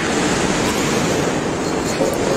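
Floodwater rushes through past large walls in a loud, continuous broadband roar like heavy surf, steady and close with no clear talking over it.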